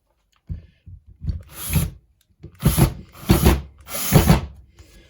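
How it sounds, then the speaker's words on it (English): A power drill drives screws into a wooden baseboard. It comes in several short whirring bursts with brief pauses between them, close and fairly loud. "I'll put the screws through just into the wood"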